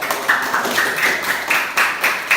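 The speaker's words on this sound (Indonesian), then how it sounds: "Tepuk tangan buat." Children clapping their hands together in a classroom, a steady run of fairly close claps, a few accented beats standing out, with no talk over it.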